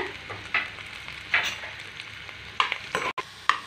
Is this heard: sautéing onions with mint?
yes